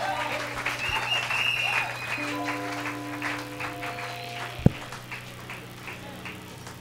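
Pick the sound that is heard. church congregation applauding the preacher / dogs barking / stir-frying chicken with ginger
church congregation applauding the preacher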